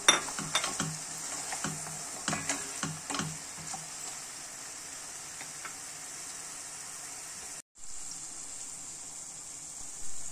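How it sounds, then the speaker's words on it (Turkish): Carrots sautéing in a pan give a steady broadband sizzle, with stirring clicks and utensil taps near the start, a brief cut to silence, then the sizzle resumes alone. "Havuçlarımızı da ekleyip kavurmaya devam ediyoruz."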